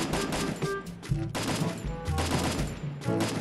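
Rapid bursts of gunfire in the Free Fire battle royale game during a 4v4 match, dense overlapping shots with short pauses between bursts, loud and close.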